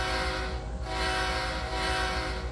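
A train reversing in the Trainz 2022 simulator: a dense, continuous rumble with a sustained horn-like tone and faint rhythmic clatter, loud and steady throughout.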